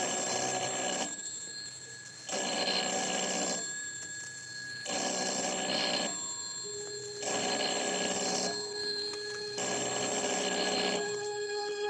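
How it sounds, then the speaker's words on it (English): A telephone rings in an empty house in an old radio drama, sounding in five regular double-bell bursts with short quiet gaps between them, close and clear with no voices. "A telephone ringing in an empty house."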